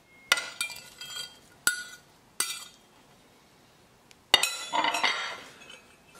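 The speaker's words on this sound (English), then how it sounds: "now we're going to add shrimps and we're going to mix them well" Raw wild-caught Argentine red shrimp being tipped into a bowl and mixed, heard as a few sharp clinks and clatters of utensil against bowl in separate bursts, with quiet gaps between them.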